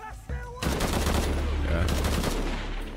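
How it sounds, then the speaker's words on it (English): Rapid automatic gunfire from the video game Shadow of the Tomb Raider bursts out after a short lead-in and continues as a dense, steady rattle to the end. "He's gonna shoot this guy now."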